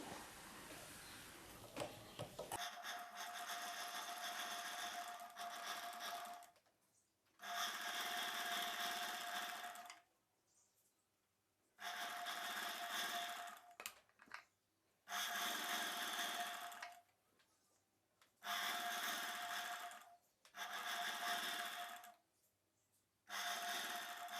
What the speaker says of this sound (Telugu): బ్లౌజ్ పీస్ పైవైపున లైనింగ్ పీస్ పెట్టి నెక్ వైపున కుట్టు వేసుకోవాలి